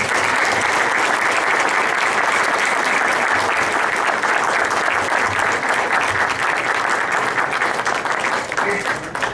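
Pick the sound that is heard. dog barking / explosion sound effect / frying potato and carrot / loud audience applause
loud audience applause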